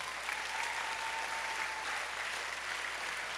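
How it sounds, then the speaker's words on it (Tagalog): A church camp audience at a youth music ministry event claps steadily and evenly for a few seconds, a soft, uniform wash of applause throughout with no one speaking. "Yung palakpak nyo para hanggang lupa lang."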